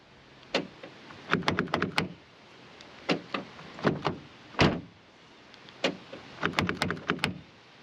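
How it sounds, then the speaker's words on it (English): A car's door locks, worked with a repaired remote key, clunk and click in several quick clusters of sharp mechanical knocks, with short pauses between them. The sounds are close by in a quiet setting. "Right, door's locked."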